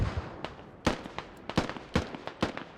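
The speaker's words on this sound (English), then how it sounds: "These are still, I think, TLR mortars." Mortar fire in a tactical shooter match, a run of sharp, distant thumps and cracks at irregular intervals, each one short and separate, fairly faint.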